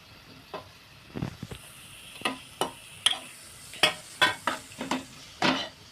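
Capsicum and coriander sautéed with spices in oil for paneer bhurji: irregular scraping spatula strokes and clinks against the pan over a faint sizzle, close and fairly sparse at first, quickening toward the end.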